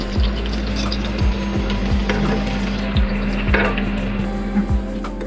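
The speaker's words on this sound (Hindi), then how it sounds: "सबसे पहले हम प्याज फ्राई करेंगे, लाल नहीं करनी, जस्ट गोल्डन ब्राउन कलर आ जाए इसका" Chopped onions sizzle steadily in hot oil in a pan, frying toward golden brown for Memoni daal chawal, with a spatula scraping the pan at a roughly regular beat, close and loud with no talking.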